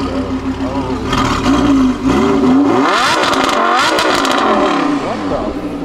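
An Audi R8 engine revving hard up close, loud rising and falling roars with sweeping pitch, while people talk excitedly over it.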